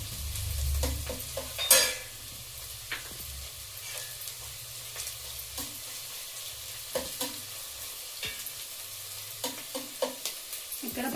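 Ginger garlic paste fries in a pan for pav bhaji, with a steady sizzle and repeated scrapes and taps of a stirring spoon throughout, close up and without talk.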